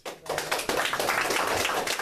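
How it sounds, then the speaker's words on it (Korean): A church congregation at a Saturday worship service breaks into a short, dense burst of clapping, close and lively, lasting about two seconds. "박수 한번."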